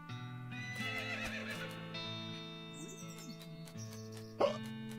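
Drunk horses in the video game West of Loathing neigh and whinny in wobbly, pitch-sliding calls over a steady tonal game music bed, ending with a brief louder burst.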